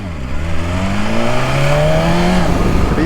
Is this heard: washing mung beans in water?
no